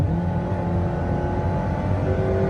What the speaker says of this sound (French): On va faire un petit kick down pour voir un petit peu ce que mamie a dans le ventre.